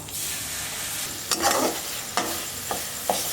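Spice paste of cashew, poppy seed and melon seed thinned with a little water and sautéed in a pan for mixed vegetables, a low steady sizzle with a few sharp scrapes and taps of the spatula, close by, no talking.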